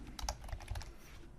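Quick, light keystrokes tap on a computer keyboard in an irregular burst of clicks, close and fairly quiet, with no talking.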